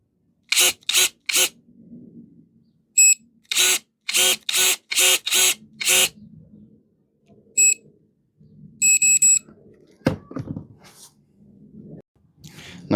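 An 18V DrillPro cordless electric garden pruner emits a series of short, sharp electronic beeps, several in quick succession and then spaced pairs, close and loud, with quiet handling noise between and a low clunk near the end.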